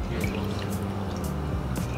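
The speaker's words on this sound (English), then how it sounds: "it's falling apart a little bit as I'm draining the water out" Water is drained from a soft block of tofu cupped in the hands, making a light trickle with small intermittent drips and splashes, close and fairly quiet.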